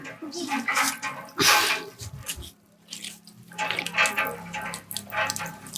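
A hand pump at a flooded government school in India gushes water in splashing bursts, with clanking strokes and an uneven rhythm, close by and fairly loud.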